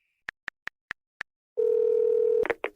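Five quick touch-tone beeps sound as a phone number is dialed, followed by a steady, clear ringing tone on the line that cuts off near the end, with a faint click or voice after it.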